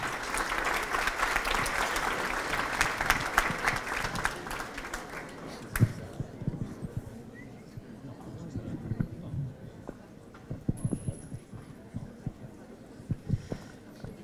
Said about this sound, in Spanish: Recibimos entonces con un fuerte aplauso al doctor César Sánchez Álvarez.